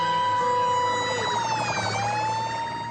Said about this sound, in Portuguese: Ele ouviu a sirene e saiu rápido para liberar o trânsito.